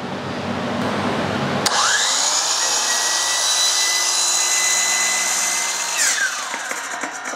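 A power saw cuts through a composite railing post sleeve on a pool deck build, the motor whining up and then holding a loud, steady, high-pitched cutting tone for several seconds before spinning down.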